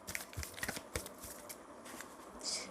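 Tarot cards are shuffled by hand, quiet irregular flicks and riffles of card stock close by, with a few sharper snaps.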